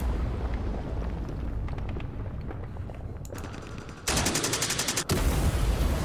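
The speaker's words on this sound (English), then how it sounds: "Let's unleash a whole bunch of rockets and machine guns into that tree line." Rockets and machine-gun fire pour into a tree line in the Vietnam War strategy game Campaign Series Vietnam, a dense, continuous rattle of automatic bursts with rumbling blasts, growing louder and harsher toward the end.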